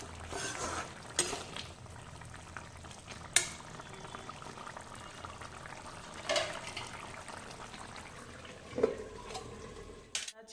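Chicken simmering in water in a pan on a home stove, a soft steady bubbling and hiss with occasional louder clinks and stirring knocks, close and moderate in level, no talking.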